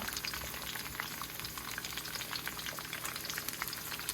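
About fifteen green chillies frying in a pan, giving a steady, close crackling sizzle with no pauses and no talking.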